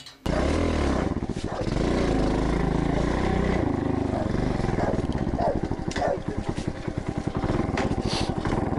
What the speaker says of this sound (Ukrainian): Показав чоловік наостанок, як працює на бензині з пластику його мотоцикл.